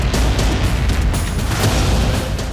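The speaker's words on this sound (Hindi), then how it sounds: "इसके बाद एक जोरदार धमाका होता है और टैंक तबाह हो जाता है।" A bomb planted on an Israeli Merkava tank goes off in a loud, sustained blast, a dense roaring rumble that fills the whole moment with no voices.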